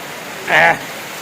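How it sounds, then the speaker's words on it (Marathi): Steady rain falls outdoors in a village, a soft continuous hiss with a brief louder burst rising over it midway through. "पाऊस आणि चहा मस्त नातं आहे चहा आणि पाऊस मस्त पाऊस चालू आहे"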